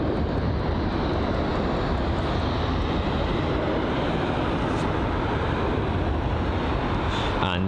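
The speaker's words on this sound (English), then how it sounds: "And the American Airlines Boeing 777 there, and that's just departed." An American Airlines Boeing 777 roars as it departs Heathrow, a loud steady broadband jet rumble, close and unbroken for several seconds.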